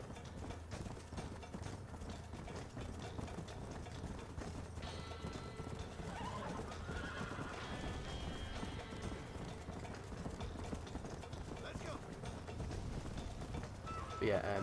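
Horse hooves clip-clopping with an occasional neigh in the video game Red Dead Redemption on PS3, a faint steady gallop rhythm under low game ambience, with someone talking over it.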